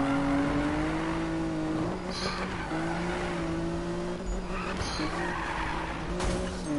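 Car tires skidding and squealing during drifting in the Need for Speed racing game, a sustained engine drone with screeching tire noise running steadily throughout, loud and close with no talking.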